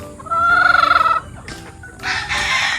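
Chickens bred for fighting cluck and call near the microphone, with a loud pulsing crow-like call early on, then scattered bursts of squawking; no talking.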